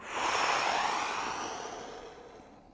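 A long, audible exhale through the mouth during a yoga forward fold, swelling quickly and then fading slowly over a couple of seconds, close and alone.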